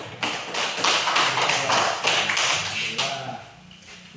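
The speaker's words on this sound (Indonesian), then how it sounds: "Berikan aplaus" A classroom of students claps together in a short burst of applause that lasts about three seconds, a dense patter of hand claps that tapers off into quiet.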